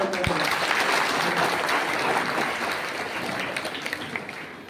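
Audience applause at a stage event for a saint's birth anniversary in Karnataka, a broad burst of clapping from a crowd that gradually thins and fades.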